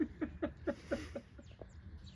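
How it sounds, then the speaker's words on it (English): Baby bird chirping while chasing its mother: about six quick, regular peeps close by, then a few fainter, trailing calls over a low background rumble. "This baby bird is chasing after its mother."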